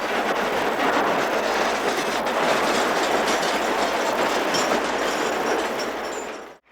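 A New York Susquehanna & Western train from the 1980s runs out of Binghamton at Stone Road in Cassville, New York, a loud, steady rumble of wheels and railcars clattering close by that lasts throughout before cutting off abruptly.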